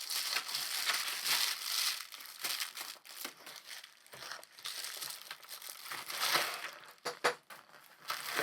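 Paper envelope being cut open with scissors and handled, giving close, uneven bursts of crinkling and crumpling with brief pauses and a few sharper rustles, no talking.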